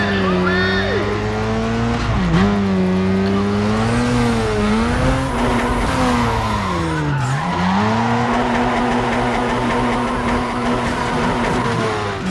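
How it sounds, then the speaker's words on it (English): Race car engine from Need for Speed ProStreet on PS2, a loud continuous revving whine that rises and falls through gear shifts, with tire squeal, under occasional talk. "Listen to that engine."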